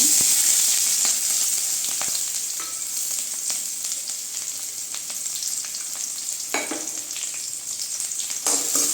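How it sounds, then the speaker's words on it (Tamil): Small onions fry in hot oil with cinnamon, cloves, curry leaves and green chilies for an oyster mushroom gravy, making a loud, continuous close sizzle with occasional stirring scrapes and no talking. "வெங்காயம் கொஞ்சம் வதங்கட்டும்"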